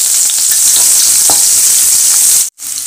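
Whole spices (cinnamon stick, bay leaf, two cloves, a star anise petal) and a shallot sizzle steadily in hot oil, a loud close frying hiss that cuts off abruptly near the end, with no talking.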